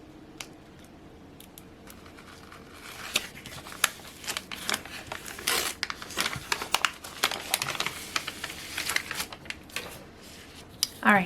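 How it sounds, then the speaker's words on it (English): Clear transfer tape backing peeled away while decorating a planner, giving close crinkly crackling and tearing sounds that grow busier partway through, with some quiet talking mixed in. "let's just go ahead and peel off that backing"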